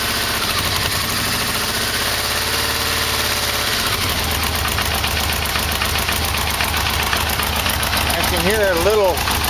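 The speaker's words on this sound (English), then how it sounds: "But I'm more worried about the motor knock." A Yamaha V-Max motorcycle engine idling close by with a rough, repetitive motor knock in its rhythm; the idle shifts slightly partway through and a voice briefly cuts in.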